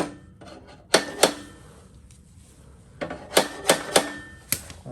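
A few sharp metallic taps on the bedknife bolts of a McLane reel mower, struck to loosen them; close and irregular, one pair early and then a quicker cluster of knocks, with no talking.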